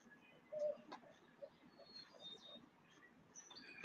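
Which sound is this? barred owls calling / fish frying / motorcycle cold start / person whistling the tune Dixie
barred owls calling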